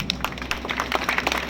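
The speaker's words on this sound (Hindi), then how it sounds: "तालियों से स्वागत करें इनका" A short burst of steady audience applause greets visiting High Court justices at a district bar association gathering in Jamui, a brisk, even wash of many hands clapping.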